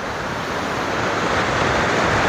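Strong water rushes steadily at Dambala Kere, a historic lake tank in Dambal, Mundaragi, a loud unbroken roar with no voices.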